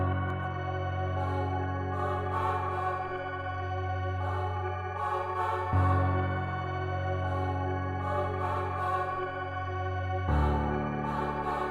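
A dark hip-hop beat built in FL Studio, with a women's choir preset, piano and bass, plays as a steady looping pattern of sustained chords over deep bass, with clear changes in the chord at two points.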